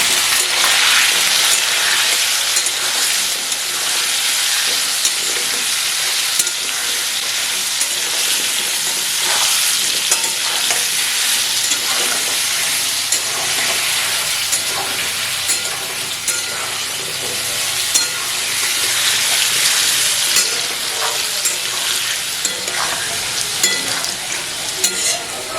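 Small potatoes fry in hot oil with salt and turmeric in a kadai, a continuous loud sizzle with spatula scrapes and stirring clatter throughout, close up and without talk.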